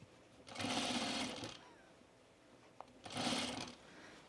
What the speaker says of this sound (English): just sewing your sleeve and then setting it into the armhole